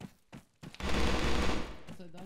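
Automatic weapon fire in a capture-the-flag competitive shooter match, a sustained loud burst of rapid shots lasting over a second after a few short pops, with players talking around it.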